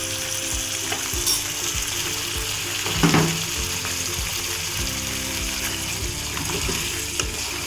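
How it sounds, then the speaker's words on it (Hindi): Mutton with spices and black pepper powder frying in a pan for mutton korma, a continuous close sizzle with scraping stirs and a brief louder clatter midway, with no talking. "अब मैं इसको 2 मिनट के लिए भून लूँ, जो मसाले भून जाते हैं।"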